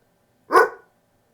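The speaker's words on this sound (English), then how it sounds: "The next step that we're going to see is Norbert barking." A single sharp dog bark, close and loud, lasting under half a second, then silence.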